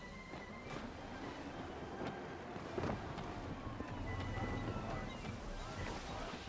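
Wind gusts roar steadily across a sailing ship's sails in a pirate-era video game, a constant rushing wash with creaks and splashes and no talk.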